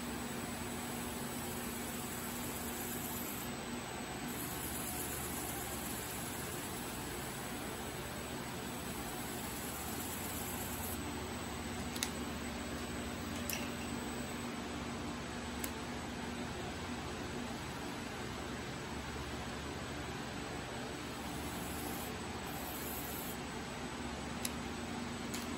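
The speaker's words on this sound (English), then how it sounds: "Turn the lathe speed down a little bit more." Wood lathe spinning a wooden spinning top at reduced speed, a steady even whirring hum held for the whole stretch with a few faint ticks, no talk.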